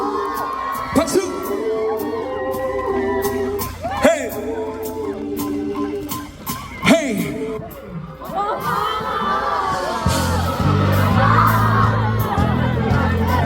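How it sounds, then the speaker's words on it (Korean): Loud crowd cheering and whooping at a live band concert, with sustained shouts from the audience and bursts of excitement rising over the venue noise, voices blending into a dense roar. "박수!"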